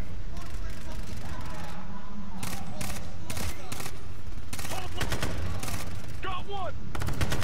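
Gunfire in the tactical shooter Ghost Recon: Future Soldier, with repeated sharp bursts and single shots at close range over continuous battle ambience.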